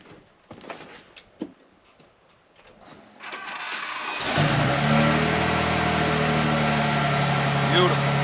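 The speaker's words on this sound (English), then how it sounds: "Let's go ahead and try to start the truck." A pickup truck's engine cranks and catches with the help of a JFEGWO 4000A portable jump starter, then settles into a loud, steady idle that runs continuously after a few seconds of quiet clicks and handling noises.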